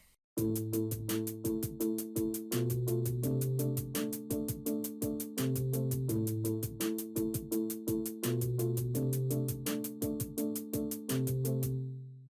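A hip-hop beat with a deep, repeating bass line pulsing under steady drums and bright percussion hits, loud and continuous without voices.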